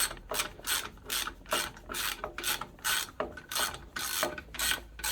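A ratchet wrench tightening a bolt on an Onan 5500/7000 generator, rapid rhythmic clicking bursts in about a dozen back-and-forth strokes, close and fairly quiet, with no talk.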